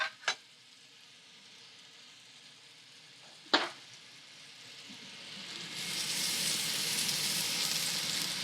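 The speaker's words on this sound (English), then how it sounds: "these are going to cook really quickly in this hot bacon grease" Green onion whites fry in hot bacon grease, starting as a quiet sizzle with two sharp clacks of a utensil against the pan, then swelling into a loud, hissing crackle.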